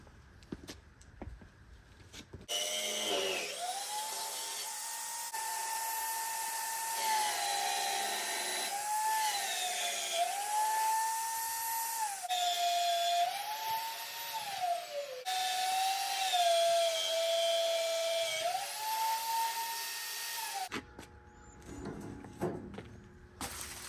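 A Vevor magnetic drill bores through a very heavy steel bumper with a loud, steady whining motor drone that dips and rises in pitch as the cutter loads and frees up, running about eighteen seconds before stopping.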